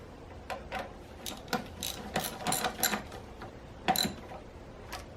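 Ratcheting clicks from a hand tool tightening a part on a Saab 9-3 2.0T engine during a thermostat and temperature sensor replacement, a close, irregular series of short mechanical clicks in bursts.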